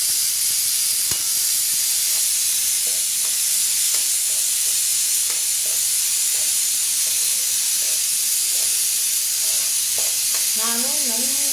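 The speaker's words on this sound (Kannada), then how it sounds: "ಆಮೇಲೆ ಇದು ಫ್ರೈ ಮಾಡ್ತಾಯಿದ್ದೀನಿ." Vegetables frying in a pan, a steady loud sizzle and hiss with occasional stirring clinks, continuous throughout with brief speech near the end.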